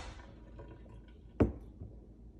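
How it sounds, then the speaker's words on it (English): A single short splash of water poured out of a measuring cup, brief and close, with quiet room tone before and after. "So I'm going to pour a little out."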